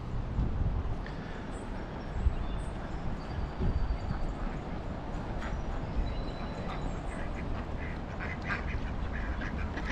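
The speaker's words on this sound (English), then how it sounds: "They encourage you to feed the ducks and the geese here." Ducks and geese in a small riverside park beside a bridge on the Doe River in Elizabethton, Tennessee, quacking and honking faintly at a distance over steady outdoor background noise.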